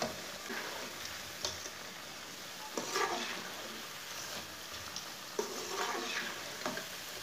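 Cabbage pakoras fry in hot oil, a steady close sizzle broken by scraping clatters and splashes as the fritters are flipped and turned, with no voices.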